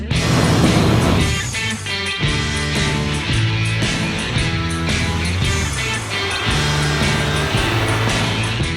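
A truck engine drives hard through deep snow, a loud continuous roar with rising and falling revs and rhythmic pulses of effort, heard alone without talk.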